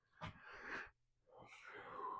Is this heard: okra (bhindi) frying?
no